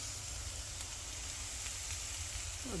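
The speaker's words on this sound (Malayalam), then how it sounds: "നന്നായിട്ട് വഴറ്റുക." Potato paratha filling of chopped onion being sautéed in a pan, a steady soft sizzle running evenly throughout, faint and close with no talking.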